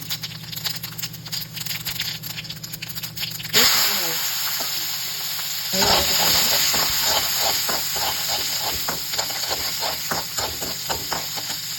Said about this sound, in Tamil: ஒரு கரண்டி ஆயில் விட்டுக்கோங்க. சீரகம் 2 ஸ்பூன் போட்டுக்கோங்க.